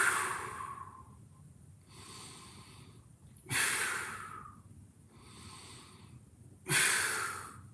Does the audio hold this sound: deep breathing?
yes